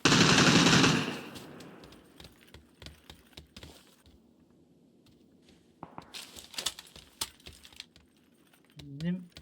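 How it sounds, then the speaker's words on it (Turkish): Gunfire from a gun in the video game PUBG, a series of sharp, scattered shots and short bursts, fairly close, following a loud opening noise and mixed with faint keyboard clicking. "Bakayım benim silah sekiyor onu deneyeceğim."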